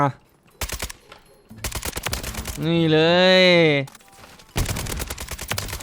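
Rapid automatic gunfire from a Kastov 762 rifle in Call of Duty: Modern Warfare II bursts out loud in several volleys, with someone talking between the bursts and a brief tonal in-game sound in the middle.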